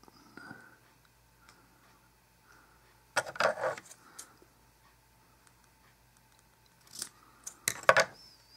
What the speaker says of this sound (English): I got a sheet of it here. Let's go ahead and cut it down.